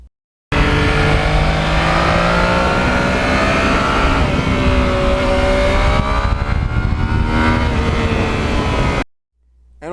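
A Yamaha MT-09 motorcycle rides hard and close, its engine droning steadily with rising and falling revs and wind rush for about nine seconds before cutting to near silence.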